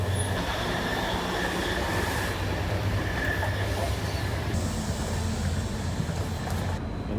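Inside a moving train, a steady, loud rumble of wheels and carriage noise fills the space, with faint high squeals riding above the constant roar.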